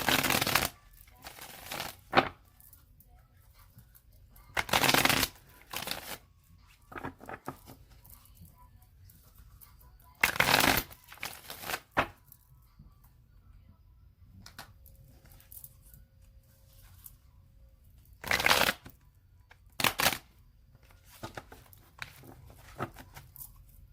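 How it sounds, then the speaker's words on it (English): A deck of tarot cards being shuffled in several separate bursts, each a crisp riffling rustle lasting about a second, close and fairly loud against near-silence between them. "I'm going to shuffle it 3 more times"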